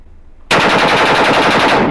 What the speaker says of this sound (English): This guy's got an AK style shotgun.